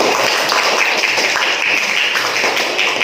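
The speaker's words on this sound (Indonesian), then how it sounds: "Tepuk tangan untuk kita semuanya" A classroom of students claps together, a dense, steady patter of many hands close by, lasting a few seconds with no pause.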